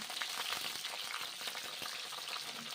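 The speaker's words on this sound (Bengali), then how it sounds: "এখন ঢ্যাঁড়সগুলো ভেজে নিচ্ছি ঢেঁড়সগুলো প্রথমে ভেজে নেব" Okra fries in hot mustard oil with a soft, continuous crackling sizzle, quiet and even throughout, with faint stirring and no voices.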